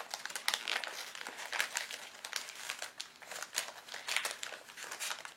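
A bath product's packaging crinkles and crackles continuously as it is opened, close and fairly soft, with busy irregular rustling throughout.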